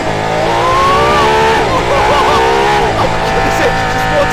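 A loud sports car engine revving hard, pitch climbing and dipping through sharp rises, close and continuous with no talking.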